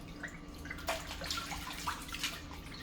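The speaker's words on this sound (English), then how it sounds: "I'm gonna rinse these chitlins one more time" Tap water runs steadily into a sink while chitterlings are rinsed in fresh water, with splashes and drips breaking through the constant flow nearby.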